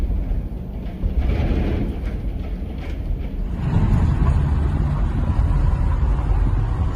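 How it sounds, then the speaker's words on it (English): A U-Haul rental truck's engine gives a steady, rumbling drone while driving through a parking lot, growing noticeably louder and heavier about halfway through, with no talking. "This truck is making a lot of noise."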